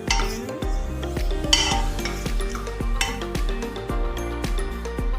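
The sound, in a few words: stirring cardamom and cinnamon in a hot pan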